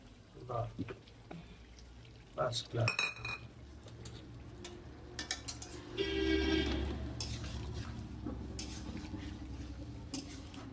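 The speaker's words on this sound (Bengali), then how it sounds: "বাটাগুলো দিয়ে এটা ভালো করে এটাকে নাড়াচাড়া করতে হবে।" Chicken being stirred with spice paste in a pan, giving intermittent clinks and scrapes of a utensil against the pan and a soft sizzle, with a voice talking at times.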